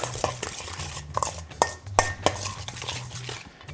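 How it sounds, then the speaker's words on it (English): A utensil scrapes and clinks against a bowl while salt and pepper seasoning is mixed in, giving irregular stirring scrapes with a few sharper metallic taps, close and fairly loud, with no talk. "Salt, pepper, and then let's just mix that up."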